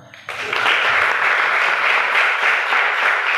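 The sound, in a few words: women in a church congregation clapping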